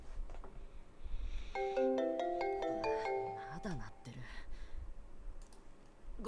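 A mobile phone in the video game Digimon Survive plays a melodic, stepped ringtone for about two seconds, clear against a low background hum, followed by clicks and faint voices.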